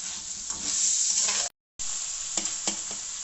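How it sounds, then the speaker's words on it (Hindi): Marinated chicken fries in a pan with a dense, bright sizzle and stirring scrapes, cut by a brief silent gap before the frying resumes with a few stronger pops. "चिकन ऑलमोस्ट फ्राई हो चुकी है, और ये टेंडर भी हो चुकी है।"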